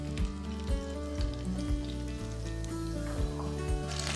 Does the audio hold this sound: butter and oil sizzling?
yes